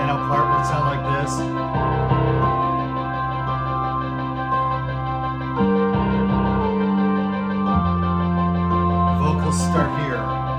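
Instrumental backing track for the worship song I Know A Name, arranged without piano, playing steadily with sustained chords and shifting harmonies throughout, no voices.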